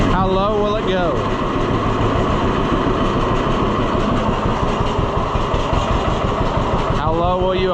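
An Oliver 1365 tractor, a Fiat 640, runs its engine at a low idle with a steady loud rumble and chugging throb throughout, close by, with brief voices near the start and end.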